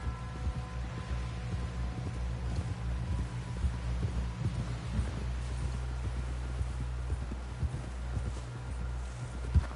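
Horse hooves clip-clop steadily in a Western video game, a soft, regular trotting rhythm over a low constant hum and faint ambient music.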